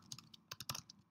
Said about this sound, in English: I will type in a message